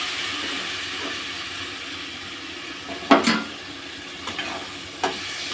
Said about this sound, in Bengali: এবার এটা একটু ভালো করে নাড়তে হবে।